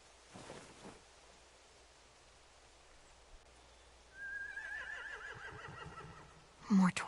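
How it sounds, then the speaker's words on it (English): Horses whinny in a game scene: a long rising neigh rings out in the middle, then a second sharp whinny at the end, over quiet ambient noise. "They have horses."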